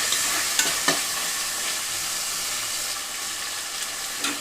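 Chopped tomato and broad beans frying with mint in a pan for pulav, a steady close hiss and sizzle with a few soft spoon scrapes and taps.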